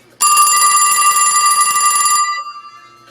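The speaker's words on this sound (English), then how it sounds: "that was the sound I heard when the phone rang in Grandpa's house" Mechanical bell of a vintage Western Electric 2554 pushbutton wall telephone rings in one loud, bright, rapid metallic burst of about two seconds, then decays into a short fading shimmer.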